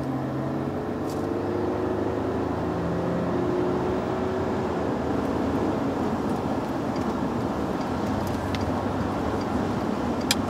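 A 2010 VW Touareg V6 TDI diesel engine droning steadily from inside the vehicle under full acceleration, a low hum with a subtly rising pitch under road noise, no talking.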